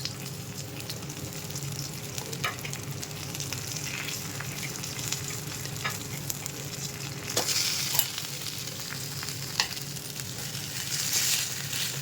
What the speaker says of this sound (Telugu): ఇలా మొత్తం కలిసేంత వరకు కలిపేసుకోవాలి